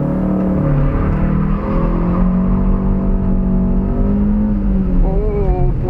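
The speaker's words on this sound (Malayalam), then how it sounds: "Right foot on the accelerator, left foot on the clutch, releasing hard, റിവ്വിംഗ് hard." A Hyundai Accent's engine revs hard with the clutch released, a loud, sustained drone whose pitch climbs and dips slightly throughout.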